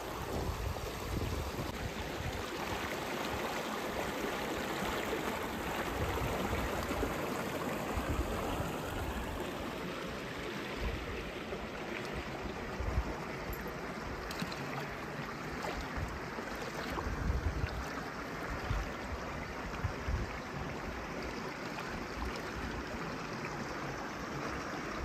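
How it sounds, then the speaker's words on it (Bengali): A river near Kalimpong rushes over stones in a steady broadband roar of flowing water, close and continuous, with wind buffeting the microphone and no talking. "তো এখন আমি এই নদীটা পেরোচ্ছি।"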